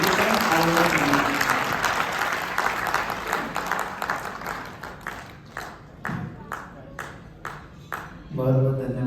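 A Hindi poetry recital audience claps loudly and densely, then the applause thins into scattered, separate claps before a voice begins speaking at the end.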